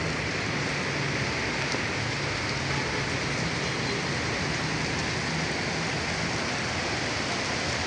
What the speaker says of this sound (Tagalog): Magandang maulan ng gabi.